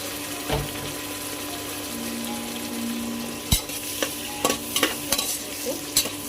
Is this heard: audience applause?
no